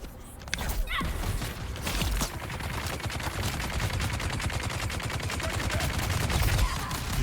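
Enemies firing at the player in the video game Dune: Awakening, a dense, continuous rattle of rapid automatic gunfire with overlapping bursts, loud and close, carrying on for several seconds without a break.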